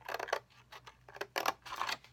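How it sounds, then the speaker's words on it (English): Scissors snip through paper along a score line while crafting a holiday money holder, a series of crisp, close cuts in quick bursts with short pauses between them, no talking. "we're going to cut right down that score line on this side"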